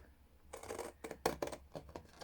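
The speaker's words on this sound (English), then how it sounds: "So I've got a nice big pair of scissors here" A big pair of scissors cuts through card in several short, crisp snips and scrapes, close and quiet, with brief pauses between cuts.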